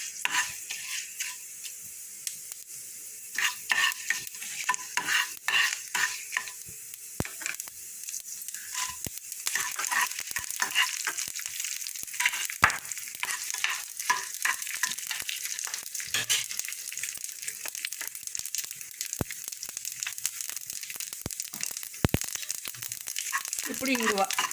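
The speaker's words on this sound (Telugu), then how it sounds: "ఇవి బెండకాయలు కొంచెం వేగాలి అంతే." Okra fries in oil in a pan for a Telugu okra chutney, with steady broadband sizzling and repeated scraping stirs throughout, fairly close and moderately loud.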